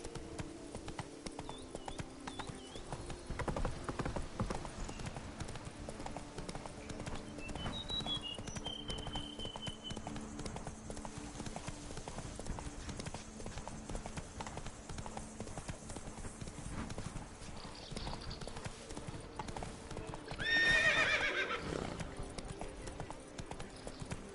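Roach the horse in a video game galloping over ground, rapid rhythmic hoofbeats running steadily throughout, with a short neigh near the end and faint game ambience, no talking.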